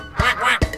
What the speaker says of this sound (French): Le petit canard.